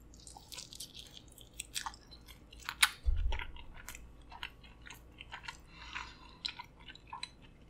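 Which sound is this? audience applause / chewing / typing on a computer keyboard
chewing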